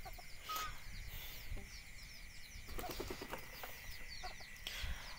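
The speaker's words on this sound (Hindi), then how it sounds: "वो मेरा मुर्गा है" Desi hens and a rooster in a small open free-range yard make scattered clucks and short calls, with faint chirping birds and a soft wing flutter over quiet outdoor background.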